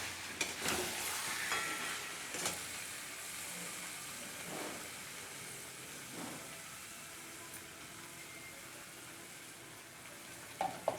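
Washed, drained chicken pieces going into a pan for a home-style chicken curry with potatoes, giving a low, steady sizzle with a few stirring scrapes and clatters, fairly quiet and with no talking.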